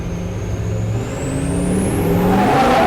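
A 600 HP Duramax-powered Humvee accelerates hard on huge tires, its loud diesel engine roaring and climbing in pitch, with a rising whine and tire spin building steadily up close.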